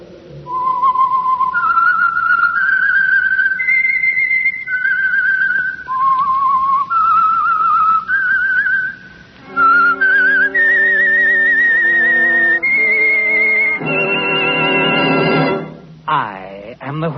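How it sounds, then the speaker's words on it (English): A lone whistler performs the signal tune of The Whistler radio program, a clear, bright melodic phrase of rising and falling notes, close and loud, ending with several sustained, buzzier tones. "That whistle is your signal for the Signal Oil Program,"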